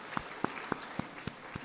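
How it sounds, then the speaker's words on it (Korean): Six evenly spaced claps in unison from a church congregation after a cake cutting at a Sunday service, sharp and rhythmic at a steady quick beat, fairly faint and otherwise quiet. "박수."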